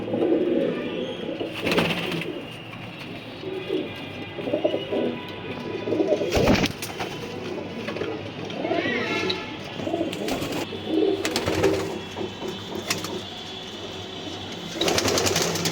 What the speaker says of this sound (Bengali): এটাও মাদি কবুতর, গড়ে আর ডাকে নরের মতন